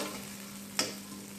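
Okra frying in oil in a pan, a faint, steady sizzle with a steady hum underneath and one quick scrape or clink partway through, with no talking.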